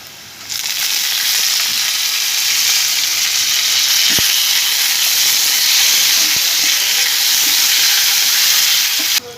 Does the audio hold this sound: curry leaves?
yes